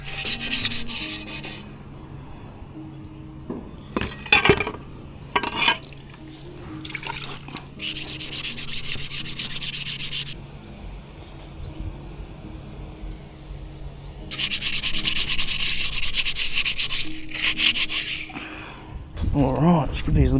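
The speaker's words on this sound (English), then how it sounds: "taking the sandpaper, giving it a good old rub so the paint sticks" Sandpaper rubs down motorcycle parts by hand before spray painting, with repeated bursts of scratchy scrubbing, close and fairly loud, separated by quieter gaps where someone talks.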